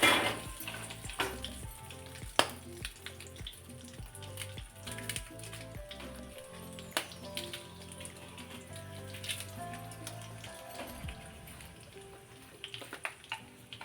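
Curry leaves crackle and sizzle as they drop into hot oil for gojjavalakki, a busy, steady spatter with sharp pops running throughout at close range, with no talking.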